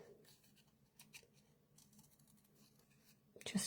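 Scissors snipping paper around a card sentiment, heard as faint, close, irregular small cuts that end in a louder rustle of handled paper, with no talking.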